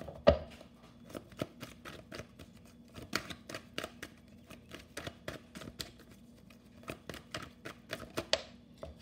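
Quiet, irregular riffling and tapping of tarot cards being shuffled, with sharp clicks and soft slaps spaced unevenly across the stretch.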